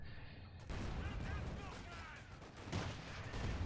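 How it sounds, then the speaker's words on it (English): Panzer IV tank fire in Company of Heroes 2, heavy booming shots and steady battle rumble rolling through a dense wartime soundscape, with a commentator talking over it. "Nice snipe there by the Panzer IV."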